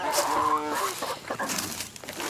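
Chickens and a rooster on a farm, close, busy clucking with a short drawn-out call at the start, followed by scattered clucks and scratchy rustling over a couple of seconds.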